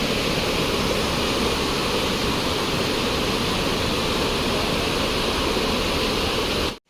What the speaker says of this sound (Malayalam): ഇതാണ് ഏഴരക്കുണ്ട് വെള്ളച്ചാട്ടം.